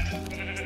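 A short, loud sheep bleat from the video game Attack Of The B Team, a single wavering cry with no talking.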